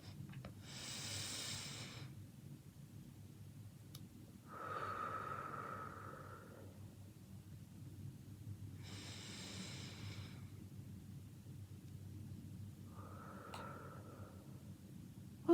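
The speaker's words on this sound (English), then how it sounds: "take 3 deep breaths with me. Deep, deep belly breaths" Slow, deep belly breaths: four long inhales and exhales alternate at a calm pace, close and soft over quiet background hum.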